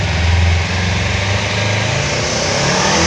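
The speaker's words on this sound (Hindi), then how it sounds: "इसका स्टॉक एग्जॉस्ट है इतने में ही ये इतना लाउड है" Kawasaki Ninja 300 motorcycle on its stock exhaust, loud and close, a continuous, buzzy engine note that stays steady throughout with no speech.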